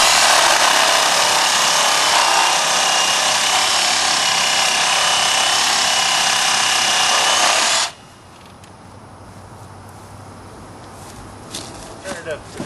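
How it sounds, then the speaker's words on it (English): A reciprocating saw cuts down a rotted wooden fence post, a loud, steady rasping buzz for about eight seconds before stopping abruptly, followed by quieter handling noises and faint clatter. "take a reciprocating saw and cut this down"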